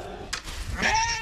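A lamb bleats once, close and fairly soft, a short wavering cry following a brief rustle.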